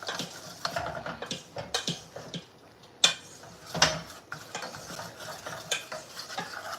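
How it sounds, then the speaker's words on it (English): A roux for chicken gravy stirred and browned in a pan: scraping, clinking strokes of a utensil in an uneven rhythm over a faint sizzle, close and heard alone. "the more toasted it gets, the better flavor you're gonna get because you're basically rouxing your roux"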